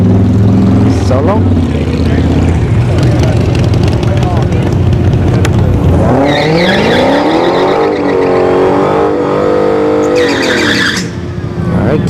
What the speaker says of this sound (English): Got the Hellcat Challenger coming up.